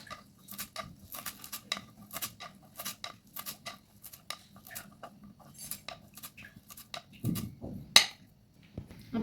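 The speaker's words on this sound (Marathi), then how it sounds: "कोथिंबीर सुद्धा बारीक चिरून घ्यायची आहे।" Knife chopping green chillies and coriander finely on a board, a steady run of quick, sharp close-up taps with a few louder knocks near the end, no talk.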